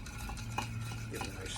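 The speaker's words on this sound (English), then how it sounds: "Give it a nice stir." An apple and caramel cocktail being stirred in a glass, a soft continuous swirl with a light clink or two, close and quiet, with no talk.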